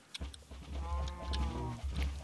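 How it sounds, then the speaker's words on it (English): Minecraft cows give a long, loud, drawn-out moo that rises and falls for about two seconds, with a lower bellow near the start and end, heard alone with no talking. "let's get rid of these bloody cows"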